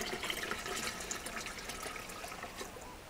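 Water pours into an automatic home beer brewing machine before the boil, a steady splashing rush and trickle heard close up with no talking.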